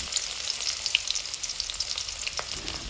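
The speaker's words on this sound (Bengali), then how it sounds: "এখন এই তেলের মধ্যেই দিয়ে দিচ্ছি কয়েকটা রসুন কুচি" Chopped garlic fries in hot oil left over from frying fish, a bright, crackling sizzle close up, with a few small pops and light stirring and no voices.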